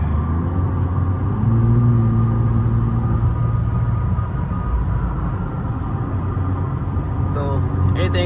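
A Toyota Camry TRD in sport mode gives a loud, steady engine drone with a deep rumble from inside the cabin, holding a sustained tone for most of the stretch, with a brief chirp near the end.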